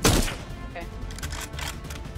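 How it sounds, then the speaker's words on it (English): Gunfire from a player's weapon in the survival shooter Miscreated: a loud burst of shots at the start, then quieter scattered reports and thuds under game ambience. "That's me shooting."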